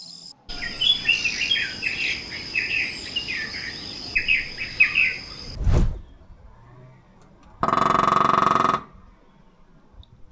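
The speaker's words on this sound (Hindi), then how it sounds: "हर सुबह एक पंछी आता था, जैसे प्रकृति अपना संदेश खुद डिलीवर करती हो।" A bird sings in a short repeated phrase of chirps through a morning at a Konkan village farmstay, with insects buzzing steadily underneath, then a brief thud and a loud mechanical whir.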